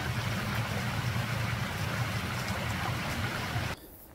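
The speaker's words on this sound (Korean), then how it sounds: "맑은 물소리가 마음속까지 시원하게 해줍니다." Clear stream water flowing beneath a small bridge in spring, a steady, fairly loud rushing wash that continues evenly, then cuts off abruptly near the end, leaving only faint background hiss.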